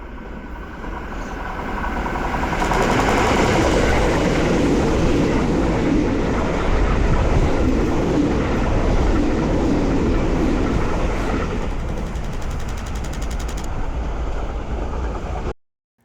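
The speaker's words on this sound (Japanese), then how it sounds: "京王線で近づいてくる電車と遠ざかっていく電車を連写して" A Keio Line electric train approaching and passing, its rumbling roar building to a loud, sustained peak and then tapering slightly before cutting off abruptly.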